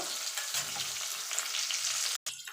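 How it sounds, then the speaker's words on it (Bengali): Tangra fish frying in hot oil, a steady, dense close-up sizzle that runs unbroken until a brief cut just before the end. "তো চলুন আমি মাছগুলো ভেজে তুলে নেব।"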